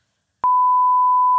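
A steady, loud censor bleep tone that starts abruptly and holds unbroken, alone with no speech, used to mask a spoken amount during an interview.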